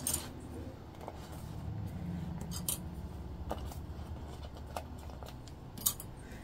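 Scissors snip into jelly vinyl fabric to mark the center of a bag's bottom piece, a few short crisp cuts at close range over a low steady room hum, with no voice.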